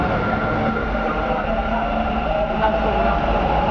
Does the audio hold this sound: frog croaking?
no